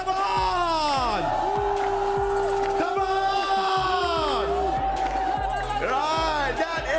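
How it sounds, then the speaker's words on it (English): Arena crowd at an esports grand final roars and cheers continuously at high volume, with whoops and shouts rising over a dense, steady din of voices and amplified music. "we explode the arena. Everyone, cheer for your team."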